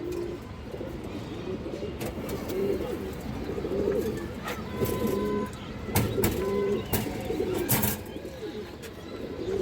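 Soft repeated coos from a restless domestic high-flyer pigeon kept at home, heard close in a quiet setting with occasional brief clicks and faint background sounds.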